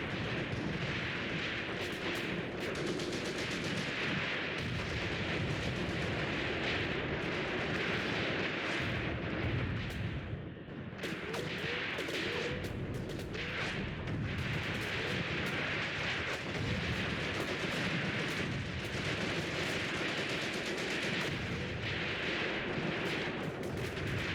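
Tank cannons firing in the World War II strategy game Tank Warfare: Tunisia 1943, heard as a dense, continuous barrage of booming shots and rumbling explosions that stays loud throughout, with no talking.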